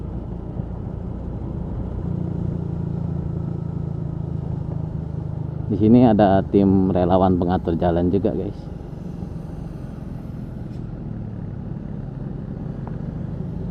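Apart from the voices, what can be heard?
Yamaha Mio GT 113cc motorcycle riding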